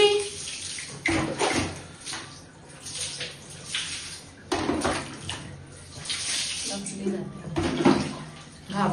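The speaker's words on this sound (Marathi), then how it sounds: "बर्थडे स्पेशल आंघोळ चालू आहे जुलीची." A dog is bathed with water poured in repeated splashing bursts, each gush rising and then falling away, with people talking and background noise between the pours.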